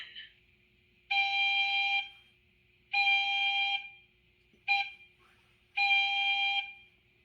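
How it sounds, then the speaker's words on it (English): Whistle option one of an On30 model trench locomotive sounds four clear tonal blasts in a long, long, short, long pattern, evenly loud and heard alone. "Trench whistle 1."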